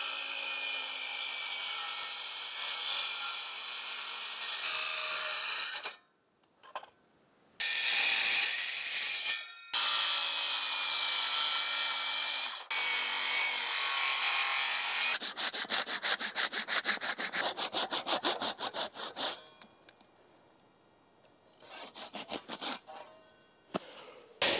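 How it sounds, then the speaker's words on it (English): A handsaw cuts a notch for a 2x8 into a wooden post for an off-grid water tower. Long, steady, loud strokes run with brief pauses and then give way to quicker, choppier rasping near the end. "cut out that notch for this 2x8"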